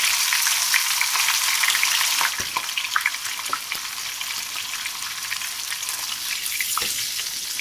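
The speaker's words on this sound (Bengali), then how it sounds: "কাতলা মাছের মাথা ভেজে নিচ্ছে" Catla fish heads fry one by one in hot oil in a home kitchen, a loud steady sizzle and crackle close by, easing slightly partway through, with a few light knocks.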